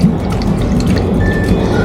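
Water trickles and drips steadily into a bioactive ant enclosure, a close, continuous splashing pour over a short stretch.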